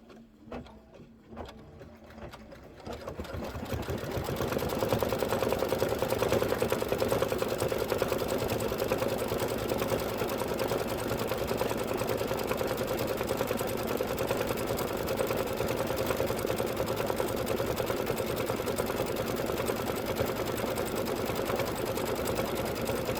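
A Kimberbell embroidery sewing machine stitches steadily after a few quiet seconds of small clicks, then settles into a loud, continuous whirring hum with a fast needle rhythm that runs to the end without talk.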